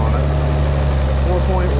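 A turbocharged Nissan 300ZX engine idles just after start-up, giving a steady, close, low rumble that holds even throughout.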